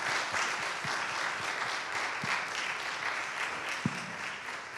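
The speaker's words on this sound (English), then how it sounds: "Could we give Pastor Newton one more round of applause" Steady applause from an audience at a graduating class consecration service at an Adventist academy, a dense crowd of clapping that holds evenly throughout, with a few sharper low thumps scattered through it.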